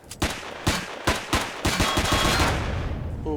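Gunfire aimed at a drone in the space survival game Empyrion Galactic Survival: a rapid burst of sharp shots, about a dozen in quick rhythm, loud and close, fading into a ringing tail.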